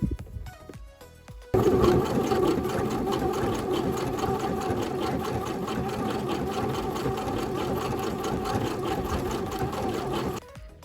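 A domestic sewing machine stitches knit fabric, starting after a short pause and running in one loud, steady mechanical whir with a rapid needle rhythm for about nine seconds, then stopping.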